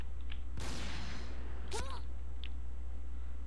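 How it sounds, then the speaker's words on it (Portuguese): A single loud gunshot in the video game Point Blank, a sharp close crack with a short noisy tail over a steady low hum, followed by faint scattered sounds, with a voice speaking. "Da onde que vem esse tiro?"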